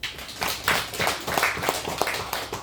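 A church congregation claps in rough unison, loud close rhythmic hand claps repeating about every quarter second over a busy room wash.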